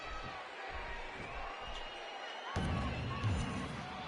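A wrestling video game arena crowd roars as a SmackDown match begins, a broad steady crowd din that swells louder midway, with a commentator's voice over it.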